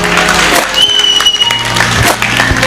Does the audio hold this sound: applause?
yes